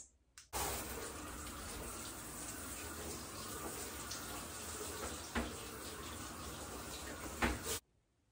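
Steady running water sprays for several seconds while rinsing a shower and tub, broad and close, with a couple of brief knocks before it abruptly shuts off.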